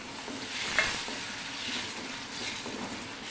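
A large tomato drops into red chilli spices frying in a pan for lobia sabzi, setting off a steady, fairly loud sizzle that swells and settles, with one quick clink near the start.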